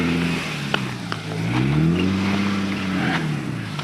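A stock Jeep Gladiator climbs an off-road trail on Fins and Things, its engine revving steadily with rising and falling pitch, close and loud with brief knocks from the rocks.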